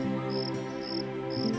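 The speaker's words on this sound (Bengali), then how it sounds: "ঝিঝি পোকার ডাক" Crickets chirping in a quiet setting, three evenly spaced shrill pulses over a constant soft insect drone.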